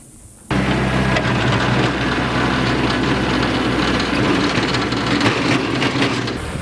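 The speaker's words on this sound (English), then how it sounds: "I realize not everyone has access to a tractor and a tiller like what I've got access to here." A tractor pulling a tiller cuts a deer food plot in the South; its engine kicks in abruptly after a quiet start and then holds a loud, steady, low drone close by, with no talking.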